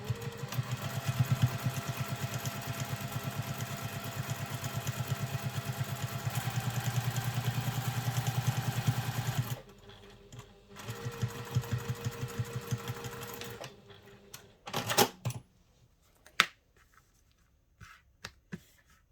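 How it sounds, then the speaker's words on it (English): Sewing machine top stitching a travel satchel, running in a steady rapid buzz for about ten seconds, then shorter bursts of stitching with pauses and a few sharp clicks and clacks near the end. "Now I'm going to top stitch that on."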